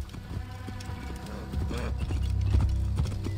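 Horse hooves clip-clop at a steady trot in the video game Assassin's Creed Origins. The hoofbeats are close and loud and grow heavier toward the end, over a low rumble.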